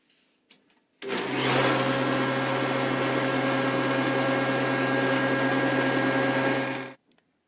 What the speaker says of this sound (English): Now we're going to run the boards through the joiner.